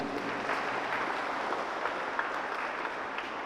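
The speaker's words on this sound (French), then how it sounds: "On applaudit Mathis." A congregation at Mass claps for a child named Mathis, a steady wash of moderate applause that holds evenly throughout without pauses.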